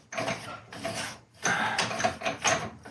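A threaded suspension collar spun by hand on a 1972 Toyota Celica, a close metallic scraping and ratcheting in short repeated bursts with brief pauses between turns.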